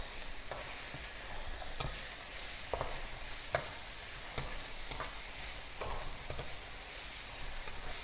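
Peppers stir-frying in a very hot pan hiss with a constant sizzle. Periodic scrapes and knocks come from stirring, close and steady, with no speech.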